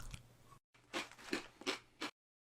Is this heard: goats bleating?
no